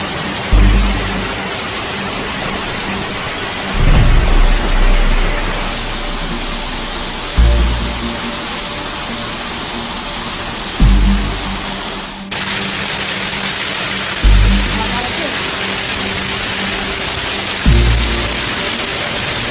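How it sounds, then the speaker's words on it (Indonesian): Hailstorm in Catalonia, a dense loud hiss of hail pelting surfaces that keeps going throughout, with low thuds recurring every few seconds. "Hujan es ini, adalah yang terbesar, yang tercatat dalam 2 dekade di Catalonia"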